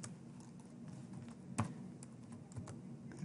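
Soft computer keyboard typing in a quiet room, with a few scattered light key taps and one sharper click partway through, faint and close with no talking.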